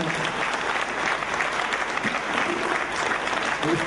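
Steady, dense applause from the audience at a folk dance ensemble's performance in Kőszeg, a continuous wash of clapping that fills the whole stretch without pause.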